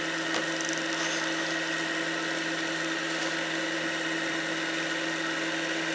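A sewing machine winds a bobbin with a steady, even motor whir that holds at one pitch throughout, close and fairly quiet, with no talking.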